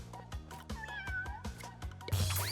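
A video game cat meows several times in a rhythmic, steady stream over a thumping backing track, with a bright burst of game effects near the end.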